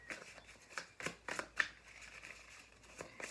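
Tarot cards shuffled by hand in a series of soft, papery riffling bursts, close and fairly quiet, repeating at an uneven pace with no voice over them.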